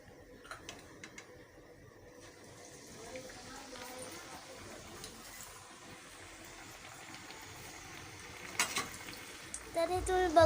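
Chakli, crisp spiral snacks, frying in hot oil with a steady sizzle and bubbling throughout, growing busier and louder toward the end with a few sharper pops and clatters.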